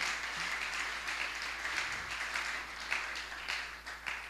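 A church congregation applauds and cheers to acclaim the Lord during a French-language sermon, a steady wash of clapping and voices at moderate distance that swells and dips across several seconds.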